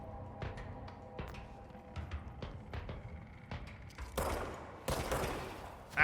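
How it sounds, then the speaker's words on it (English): Sniper gunfire in the video game Control: a string of sharp, separate cracks and thuds in an uneven rhythm, followed by a few louder, broader blasts near the end. "That's freaking snipers."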